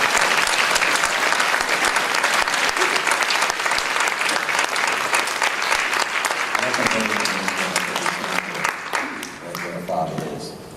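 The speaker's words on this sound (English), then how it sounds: "I just want everyone to give a round of applause to FOB Equestria" Sustained applause from a convention panel audience, dense and loud throughout, gradually thinning toward the end as a few voices emerge over the fading clapping.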